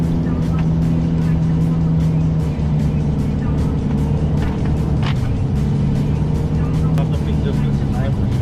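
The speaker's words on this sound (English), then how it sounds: "So we are now driving on your off-road, the sand dunes of this golden desert of Dubai." A Mercedes-Benz Arocs 4663 SLT 8x8 truck drives over desert sand dunes in Dubai with a loud, steady engine drone heard from the cab, and people talk over it.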